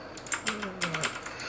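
Computer keyboard in illustration software, Ctrl+D pressed over and over to duplicate a selection: a quick run of about six or seven crisp, close key clicks with a faint voice underneath.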